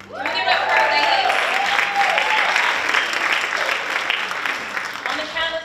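Pageant audience breaks into loud, sustained applause for the Miss UWG scholarship contestants, a full room clapping and cheering with a few whoops, slowly tapering off.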